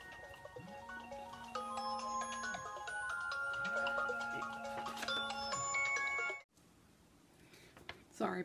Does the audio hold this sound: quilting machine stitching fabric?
no